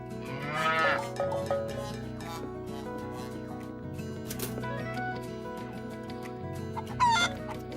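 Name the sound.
cow mooing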